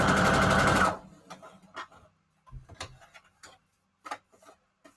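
Sewing machine stitching fabric tags for a junk journal, a loud close whirring burst of about a second that stops, followed by scattered clicks and handling sounds.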